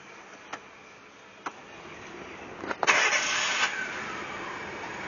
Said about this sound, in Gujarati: હવે કાર ઓન કર.